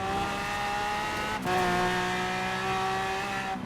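A Lamborghini Aventador V12 in Forza Horizon 4 drones steadily, then a quick downshift drops and shifts the engine pitch with a brief break, followed by continued high, whining engine tone with light tire squeal.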